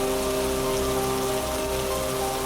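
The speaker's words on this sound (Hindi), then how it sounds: "बारिश रुकने का नाम नहीं ले रही थी" Heavy rain pours down in a steady, dense, unbroken hiss that stays loud and even throughout, with a faint tonal hum underneath.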